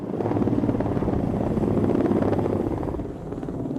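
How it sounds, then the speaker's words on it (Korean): Firefighting helicopters fly overhead above a deserted village during a wildfire in Uljin, North Gyeongsang, South Korea, their dense rotor thumping and engine roar loud and steady throughout with no talk. "머리 위에는 소방 헬기들이 쉴 새 없이 오가며 물을 쏟아붓습니다."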